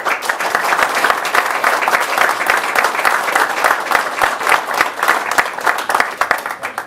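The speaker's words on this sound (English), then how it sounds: "Again, round of applause." Applause from the audience at a Port Authority of New York and New Jersey public board meeting, a sustained, loud burst of many hands clapping in a room that goes on for several seconds.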